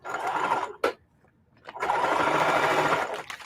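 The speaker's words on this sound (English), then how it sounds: "because it's already on zigzag, I'm just going to zigzag it." A sewing machine zigzag-stitches a tote bag made from a feed bag, giving two close, steady whirring runs separated by a brief pause and a click.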